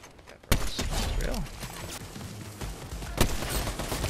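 Sniper rifle fire in Fortnite Chapter 5: a sharp loud shot opens, followed by dense gunfire and game noise, with a second crack near the end.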